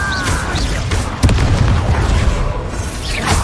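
An Incendio fire spell blasts in Hogwarts Legacy, giving a loud, sudden boom with a crackling burst partway through amid ongoing combat noise.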